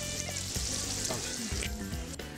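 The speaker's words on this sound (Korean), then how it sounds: "이제 남은 건 팔팔 끓는 기름 속으로 퐁닥 입수하는 것뿐" Twisted kkwabaegi doughnuts fry in boiling oil at a market stall, giving a dense, steady, close sizzle with bubbling crackle that never lets up.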